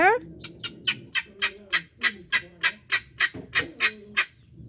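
Guinea fowl call in a rapid series of about fifteen sharp, rhythmic, harsh cackles, loud and close, with a faint voice briefly underneath.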